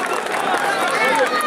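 Applause and crowd noise from spectators at a traditional Turkish bull-wrestling event, a steady dense wash with a lively crowd hubbub and voices mixed in throughout.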